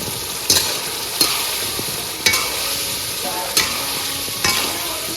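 Fried cabbage manchurian stirred into a sizzling sauce of ketchup, vinegar, Kashmiri chilli powder and a little sugar in a pan, a steady close frying hiss broken by about five sharp spoon scrapes at regular intervals.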